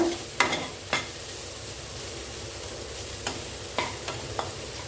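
A spoon scrapes a chilli powder mixture off the bottom of a kadai over a soft frying hiss, with several sharp scraping strokes spread through.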